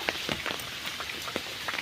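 Rain falls outdoors in Bangladesh during a storm, a soft, steady patter of drops striking surfaces with scattered sharper ticks, fairly faint and without voices.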